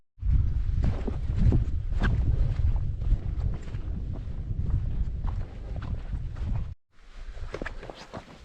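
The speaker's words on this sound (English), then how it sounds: "Let's get out of this wind." Wind on a mountain hike in the Lake District's Langdale Pikes, blustery gusts buffeting the microphone loudly and continuously, briefly dropping out before resuming.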